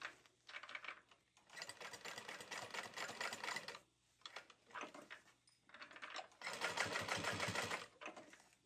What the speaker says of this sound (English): I'm going to sew across that open edge, and then we're going to stitch this at 1/8 and then 1/4 inch.